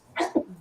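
A single human sneeze, close and fairly loud, with a short breathy intake followed by a sharp burst, all within under a second.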